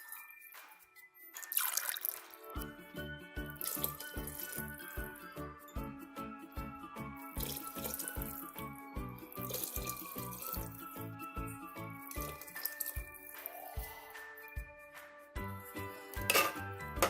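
Water pours into a pot of mushroom dum biryani in a home kitchen, a soft splashing and trickling that sits under steady background music.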